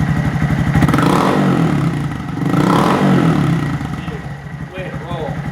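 2019 Honda Monkey 125 cc fitted with a Yoshimura RS-3 full system exhaust, revved in loud blips close by, engine rising and falling twice before easing back toward idle.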